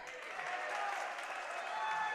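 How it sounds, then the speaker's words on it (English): Spectators clap through a junior varsity boys' basketball game, a steady, moderately loud patter of crowd applause lasting the whole moment, with faint voices mixed in. "it sounded like they're clapping"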